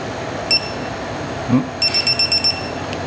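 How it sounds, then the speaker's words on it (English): Sharp high-pitched electronic beeps from a device on a Honda CX500 motorcycle: a single beep, another shortly after, then a quick run of five or six beeps in a row, clear and close. "Get those crispy beeps on the mics"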